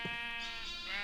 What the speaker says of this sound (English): One sheep in the hole, and that sheep is protesting for sure.